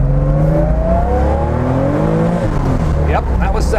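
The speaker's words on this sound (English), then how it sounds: "Let's get on the throttle." An early hot-rod Porsche 911 engine accelerating under throttle, a loud, close, rising flat-six growl with climbing harmonics that builds steadily before the pitch drops sharply near the end as it shifts.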